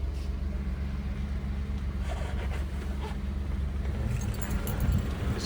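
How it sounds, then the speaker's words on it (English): Steady cab fan running inside a 2019 Suzuki Carry fridge truck with a 3-speed automatic, a constant close broadband whoosh with low rumble throughout and no speech. "So you can hear the fan working, and it's already pretty cold in here."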